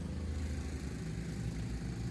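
A lawnmower engine drones steadily nearby in a garden, a low, continuous rumble with no breaks, fairly faint and unaccompanied by talk.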